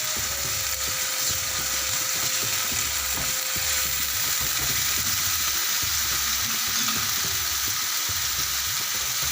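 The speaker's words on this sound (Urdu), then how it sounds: "اب لہسن کے ساتھ ہم اس کو تھوڑی دیر فرائی کریں گے" Minced keema with garlic and whole spices sizzling steadily in a hot pan, a continuous close frying hiss with occasional faint stirring clicks, no voices.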